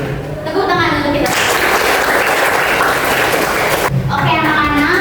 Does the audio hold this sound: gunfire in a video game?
no